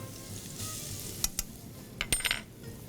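Ginger and garlic fry lightly in a pan, a low steady sizzle broken by a few sharp metallic clinks of a spoon against the pan.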